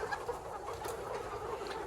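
Sandy laying hens cluck steadily and close by inside a coop, a busy overlapping chorus of short fowl calls over a dense noisy backdrop, with no talking.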